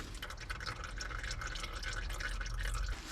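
Engine oil drains steadily from a Honda during an oil change, a continuous close trickle and splash of liquid with no break.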